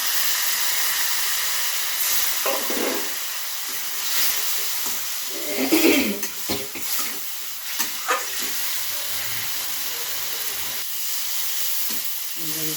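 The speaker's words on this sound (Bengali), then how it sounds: "আমার কুমড়োটা কষানো হয়ে গেছে।" Pumpkin sautés in a pan with cumin powder, red chili, turmeric and a little water, giving a soft steady sizzle and hiss with occasional stirring scrapes and clatter.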